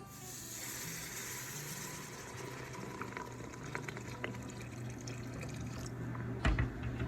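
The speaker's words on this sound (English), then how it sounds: "So let's start adding our stock in." Stock pours into a pot of cream of broccoli soup, a soft, steady liquid stream and gentle bubbling heard faintly for several seconds with a light clunk near the end.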